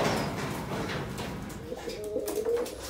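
A pigeon coos softly in a loft of breeding tumbler pigeons, low throaty calls rising toward the end, faint and close with light background rustle and no talk.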